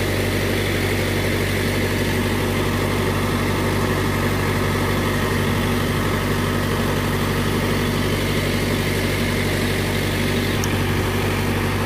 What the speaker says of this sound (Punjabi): ਹੁਣ ਪੱਠਿਆਂ ਨੂੰ ਪਾਣੀ ਲਾਈ ਜਾਂਦੇ ਸੀਗੇ, ਜਨਰੇਟਰ ਚਲਾਇਆ ਸੀ